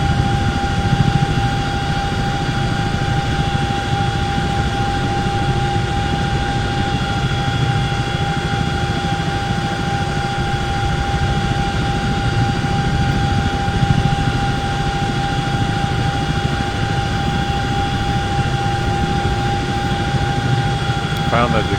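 Steady, continuous drone of a CH-47 helicopter's engines and rotors in the X-Plane 11 flight simulator, a constant low rumble with faint tonal whine above, unchanging throughout and with no speech.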